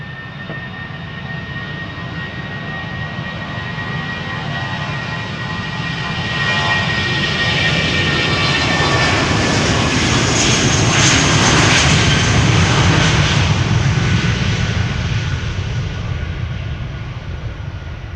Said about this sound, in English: this is BA Flight 437 to London Heathrow